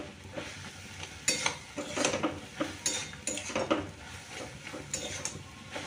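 A utensil stirs and scrapes okra and vegetables in a pan, with irregular clinks and scrapes over a faint sizzle, close and fairly quiet.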